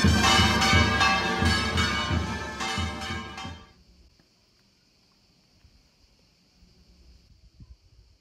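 Church bells ring loudly and resonantly in repeated strikes for about three and a half seconds, then stop abruptly, leaving a faint steady outdoor hum and light rustling.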